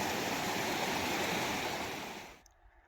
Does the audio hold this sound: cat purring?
no